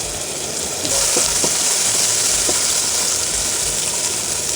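Onions frying in a small amount of oil in a pan for a Kenyan pork lunch, a steady close hiss that swells after the first second, with a few faint clicks of a utensil, no voices.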